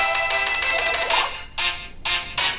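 A phone rings in Pokemon HeartGold/SoulSilver, a bright electronic ringtone that plays a longer warbling burst and then two shorter repeated rings, loud and alone.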